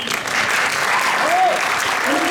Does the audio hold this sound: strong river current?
no